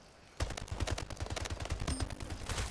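Rapid gunfire in the arena shooter Splitgate, a dense run of sharp close shots lasting a couple of seconds after a quiet start.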